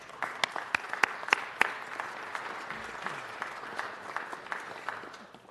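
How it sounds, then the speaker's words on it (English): A city council meeting crowd applauds Los Angeles Police Department mentors with dense, steady clapping and a few sharp, prominent claps near the start. The clapping is moderately distant and continues for several seconds before easing off. "If you can please help me give them a round of applause."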